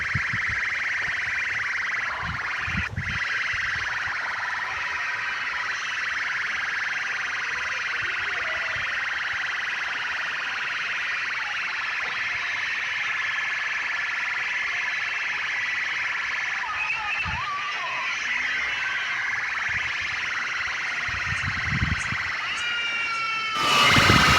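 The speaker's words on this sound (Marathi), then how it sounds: "तर हा हॉर्न पाहू शकता हा हॉर्न जगदंबा सेवन सेवनमधून येत आहे" A siren-like horn blasts through a large DJ sound system at an outdoor DJ competition during the Bail Pola festival, holding a loud, sustained wailing tone for the whole stretch, with a sharp burst of rising sound at the very end.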